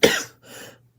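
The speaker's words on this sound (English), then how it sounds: "And my cough." A single person's cough up close: one sharp, loud burst followed by a softer, breathy second hack, then quiet.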